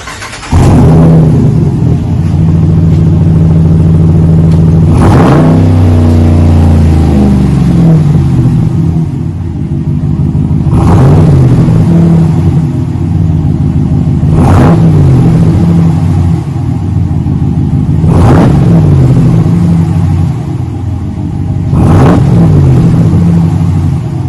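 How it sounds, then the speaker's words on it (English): A 2021 Dodge Ram with a single chamber V-tube muffler in place of the factory muffler revs repeatedly, making loud deep throaty exhaust rumbles with a sharp rise at each rev. There are about five revs, close by at idle, with no talking. "Put a single chamber B-tube muffler where the factory muffler is. Should give it a nice throaty sound."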